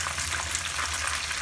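Chicken fries in oil over medium heat, giving a steady, close, continuous sizzle with no pauses and no voices.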